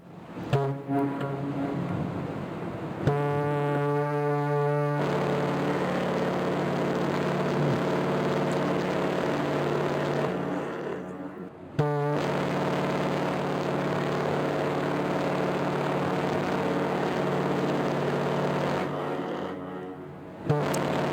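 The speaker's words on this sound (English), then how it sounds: "In the pilot house, this is the whistle handle for the Leslie Typhon whistle." Leslie Typhon steam whistle on a Great Lakes freighter, two long sustained deep blasts with rich harmonic tones, each lasting several seconds, loud and close, separated by a brief gap.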